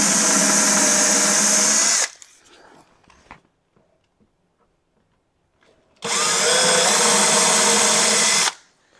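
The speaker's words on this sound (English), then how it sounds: "We're drilling right in the middle" A power drill boring with a 1/8 inch bit as pilot holes are made for screws in a wave-shaped desk build: two loud, steady bursts of about two seconds each, separated by a quiet pause with faint handling noise.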